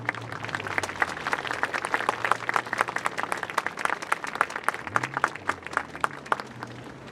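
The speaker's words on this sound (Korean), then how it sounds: "올라오실 때 큰 박수로 환대했으면 좋겠습니다" Warm applause fills a hall at an Easter joint worship service as a witness comes up to speak, steady many-handed clapping throughout with a low murmur beneath it.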